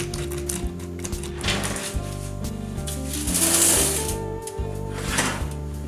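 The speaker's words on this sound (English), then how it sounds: "I will now grind it together to incorporate with the other recipes" Salt and spices ground together for grilled tilapia make a steady, rhythmic mechanical whirring and clattering, loud and close, running continuously with no talking.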